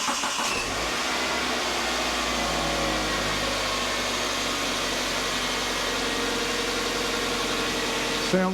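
A 2010 Kia Sportage 2.0 petrol engine idles steadily right after an oil and filter change, a close, even hum and tick-over that runs unbroken without revving.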